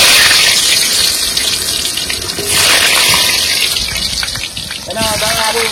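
Tap water gushing steadily into a sink while raw meat is washed in a kitchen, loud and close, with a voice speaking over it.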